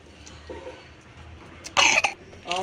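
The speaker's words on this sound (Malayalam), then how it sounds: "ഇവന് ചുമയുണ്ട്, ഭയങ്കര ചുമ" A boy coughs in a short harsh burst near the microphone, with faint background noise before it and a little murmur afterward.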